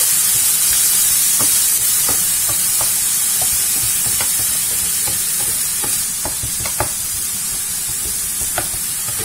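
Food sautés in a hot pan for a spinach lasagne filling, a steady loud sizzle and hiss with occasional utensil taps and stirring scrapes, close up and without talk.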